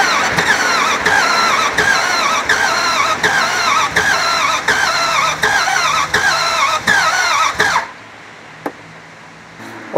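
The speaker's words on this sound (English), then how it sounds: "all that cranking got me to kick a code" A car engine cranks over and over without catching, making a rhythmic run of about a dozen starter strokes with a repeated clunk, then falls silent.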